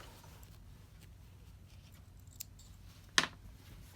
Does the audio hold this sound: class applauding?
no